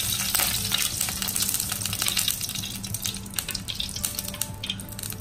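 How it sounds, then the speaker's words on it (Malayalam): Coconut oil poured into a hot pan before frying chicken sausages, giving a bright, crackling sizzle that stays loud and steady throughout. "അതിലേക്ക് നമുക്ക് സോസേജ് വറുക്കാൻ ആവശ്യത്തിനുള്ള വെളിച്ചെണ്ണ ഒഴിച്ചു കൊടുക്കാം."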